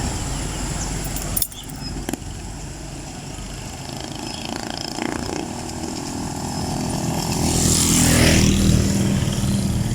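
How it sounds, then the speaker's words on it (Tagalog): Motorcycles pass along a rural provincial road in Leyte, Philippines, with engine noise that swells as a bike approaches and roars past close by near the end, plus a couple of sharp knocks early on. "daming motor dumadaan"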